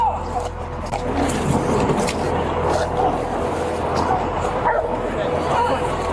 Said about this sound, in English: Hey, pull the dog out.